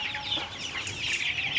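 Chickens clucking at a traditional Vietnamese market along the Red River, a close, busy chorus of overlapping clucks and squawks from caged birds, with no talking.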